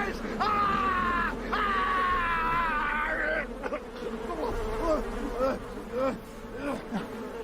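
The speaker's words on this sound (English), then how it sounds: "Not the bees, not the bees." Swarming bees in a scene from The Wicker Man, a buzzing drone under a man's anguished screaming and groaning, loud at first and then breaking into ragged cries.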